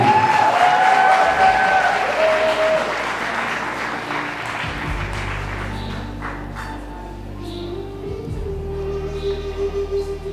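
Wedding guests at a walima reception at Whites Ferry Manor applauding, a loud dense burst of clapping that gradually thins out while a low hum and faint crowd noise continue.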